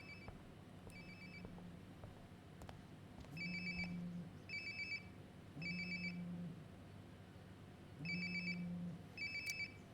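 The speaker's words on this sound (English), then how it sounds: "Sounds like my phone is definitely nearby." A mobile phone rings in Life is Strange: Before the Storm, sounding three evenly spaced electronic trills, faint and a little distant, with soft room noise between the rings.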